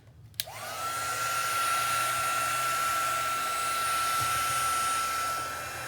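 A hair dryer switches on with a click and blows a steady, loud whirring roar with a constant whine while drying paint on a journal cover, then tapers slightly near the end.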